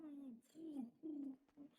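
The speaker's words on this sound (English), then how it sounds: "I think that's an owl." An owl calls faintly in the distance: three or four soft, low hooting coos, each sliding slightly downward, separated by brief pauses.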